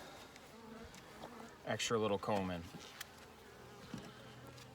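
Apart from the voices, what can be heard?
bees in a top bar hive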